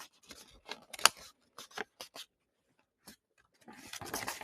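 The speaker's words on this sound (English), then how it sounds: "I'll bring this crease and this crease together by folding down on the dotted line." Paper creased and folded by hand while making an origami model of hemoglobin, heard as a series of short, close crinkling and crackling bursts separated by brief pauses, with a denser rustle near the end.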